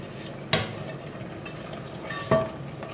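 A spoon stirs azu, a meat stew with sauce and potatoes, in a pan, giving two distinct scraping clinks against a low simmering background.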